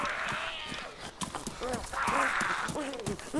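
Rhythmic clip-clop of horse hooves while riding in DayZ Standalone, close and steady, with a brief whinny-like tone; someone talks over the hoofbeats.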